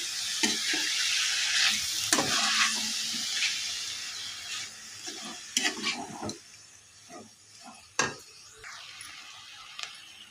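Curry being mixed in a hot pan: a hissing sizzle with steam, punctuated by irregular sharp scrapes and knocks of a spoon, loud at first and easing off later, close up with no talking.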